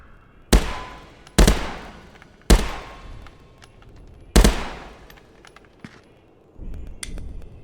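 Single rifle shots crack out in a VR game played with a Deadeye Enforcer haptic gunstock, four sharp loud reports spaced about a second apart, followed by fainter clicks and a rumbling buzz.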